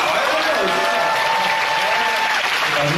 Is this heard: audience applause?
yes